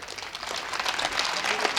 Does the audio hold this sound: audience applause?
yes